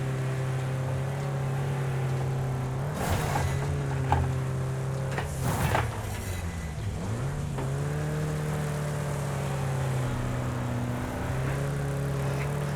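A race car engine in the Wreckfest video game revs hard and accelerates down a straight, a loud steady drone with pitch sweeps at the gear changes, running alone without talk.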